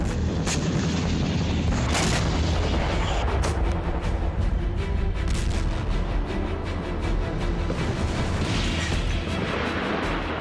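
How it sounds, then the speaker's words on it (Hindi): Russian navy long-range cruise missiles fired one after another in the Black Sea, a dense, continuous roar with repeated heavy booming blasts and crackling bursts filling the whole stretch. "काला सागर में एक के बाद एक 8 मिसाइलें दागी गईं।"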